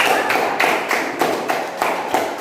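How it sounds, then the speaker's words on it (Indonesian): Classroom students applauding together, clapping in a loud, even rhythm of sharp collective beats roughly three per second, with no talking. "Tepuk tangan. Tepuk tangan."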